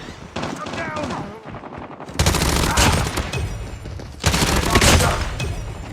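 A QQ9 submachine gun sprays in bursts during a Call of Duty match, loud rapid automatic fire with a brief gap and then two sustained volleys close to the listener.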